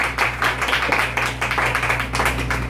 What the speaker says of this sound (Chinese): 我们现在热情掌声欢迎柴智屏小姐先跟我们大家来说说话